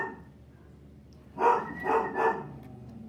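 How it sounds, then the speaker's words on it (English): Several dogs bark in three quick bursts, fairly close and moderately loud, after a quiet stretch, with nobody speaking. "my dogs are joining us in our story today"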